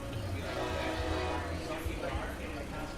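A train rumbling past nearby, with a continuous low, heavy roar and steady broadband noise throughout, while someone talks over it.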